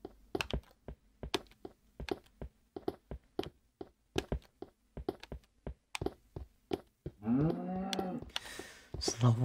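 Minecraft cow mooing repeatedly in a video game: a low drawn-out moo rises near the end, after a long run of steady keyboard tapping in rapid irregular clicks.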